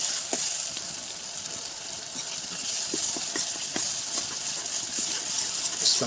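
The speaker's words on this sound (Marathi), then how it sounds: "कोथिंबीर मी काय मिरची अद्रक त्यांचं पेस्ट करून घेतलेलं ते आता भाजून घेतो" Coriander, green chilli and ginger paste frying in oil for a Konkan crab curry, giving a steady soft sizzle and hiss with small crackles scattered throughout, close by and with no talk.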